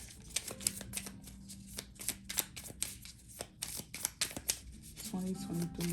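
Tarot cards are shuffled by hand in quick, close riffling bursts, with soft rubbing and a brief low hum near the end.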